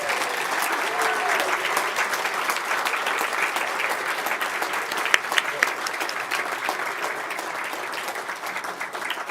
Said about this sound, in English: They all wanted to applaud so much.